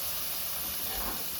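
A tomato and coconut mixture fries in hot oil with a loud, steady hissing sizzle that runs unbroken and close throughout, with no voices.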